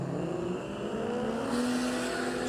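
Modified Ford Falcon with a barrel turbo swap and big intercooler drag racing a Holden Commodore, the engines droning steadily with rising pitch as they accelerate at a continuous, loud level.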